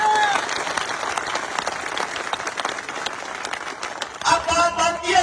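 A crowd at a live political rally in Rajasthan claps loudly and densely, the applause tapering near the end as a voice returns over it.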